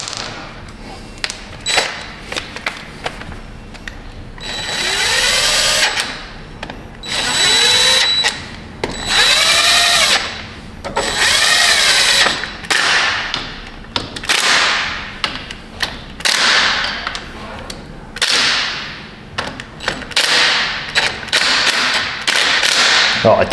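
A power tool torques down bolts on a Yamaha Big Bear 400 ATV, firing in loud, close bursts of whirring and rattling between short pauses, with a few thuds.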